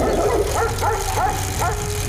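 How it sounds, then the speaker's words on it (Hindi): In a Hindi cartoon, several dogs bark and yip at a bicycle in quick succession, close by, over a constant background hum. "कुछ कुत्ते राजेश की साइकिल को देखकर भौंकने लगते हैं।"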